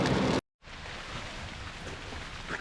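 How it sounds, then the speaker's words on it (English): Steady rain falls at a park boardwalk near Syracuse, a dense even hiss after a brief silent gap, rising slightly toward the end. "it's raining heavier rainy now. It sounds like it's getting heavier."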